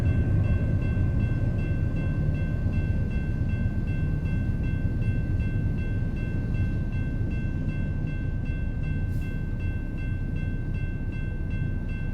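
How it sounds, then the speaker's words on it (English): A train rumbles past steadily in American Truck Simulator, a continuous low, loud rolling roar with a faint sustained whine above it, no voices. "We're just catching trains all day today."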